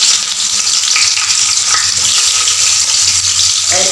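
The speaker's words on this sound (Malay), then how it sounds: "Minyak pun sudah panas ya. Kita mula-mula masukkan bawang ni." Sliced onions fry loudly in hot oil, a close, steady, hissing sizzle that keeps going without a break.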